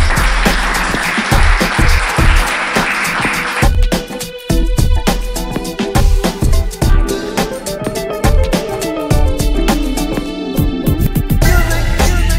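An audience at a talk on post-holiday stress and PSYCH-K gives loud, dense applause for about four seconds, then music takes over.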